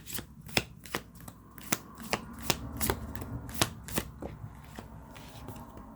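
Tarot cards being shuffled by hand, a rhythmic series of crisp riffling snaps repeating about every half second, close and clear with no voices.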